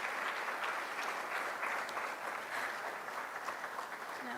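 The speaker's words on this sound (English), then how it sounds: "Please give another round of applause to my brother Asad Muhammad" Steady, dense applause from an audience at an albinism awareness day gathering, a continuous wash of many hands clapping at moderate volume with no break.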